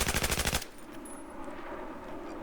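A burst of rapid automatic gunfire in Battlefield 4, loud and close, lasts about half a second and then cuts to a low rumbling background.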